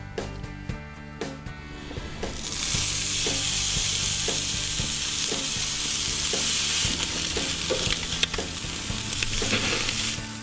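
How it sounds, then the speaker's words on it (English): Walleye fillets sizzle loudly on a hot grill, a steady broad frying hiss that rises after a couple of seconds and holds, with faint clicks and low background hum. "Toss the walleye fillets on the grill."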